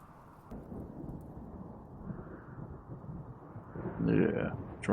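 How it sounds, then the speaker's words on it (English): Dry thunderstorm thunder in the video game Rimworld: a long, low, rolling rumble that swells toward the end, with a voice speaking over it. "Yeah, dry thunderstorms, fantastic."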